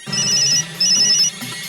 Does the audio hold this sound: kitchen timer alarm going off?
no